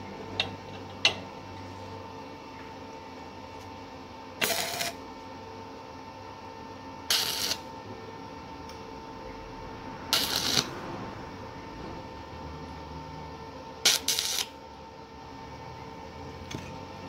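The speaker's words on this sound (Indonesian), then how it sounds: "Bagian mur bos, kita las." A nut is welded onto a stainless steel ornament in four short, crackling bursts a few seconds apart over a low steady hum, with no talk.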